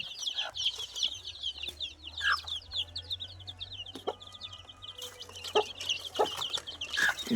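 Hens and newly hatched chicks at a family home cluck and peep in a continuous, close chorus, with bright chick chirps layered over lower hen clucks and a few louder calls throughout.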